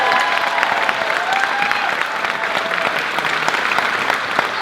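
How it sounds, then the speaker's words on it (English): A crowd at a talent show applauds to welcome performer Molly Wright onto the stage, the steady dense clapping near and loud throughout, with a few faint whistle-like tones and voices mixed in. "please can I have a big warm round of applause for the lovely Molly Wright"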